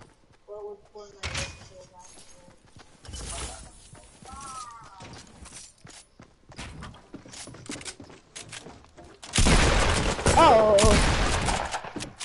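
Shotgun blasts go off in a video game: sharp bursts are spread across the clip, with a loud, dense flurry of firing near the end, while a player talks over the action.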